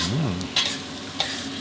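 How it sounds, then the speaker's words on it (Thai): Small whole squid stir-fried in a glossy squid ink sauce, giving a steady close sizzle with a few sharp spatula scrapes against the pan and no voices. "ใส่หมึกลงไปเสร็จก็ผัดเคล้ากับน้ำซอสของเราได้เลยครับ"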